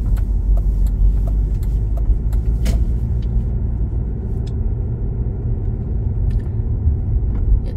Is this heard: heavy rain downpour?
no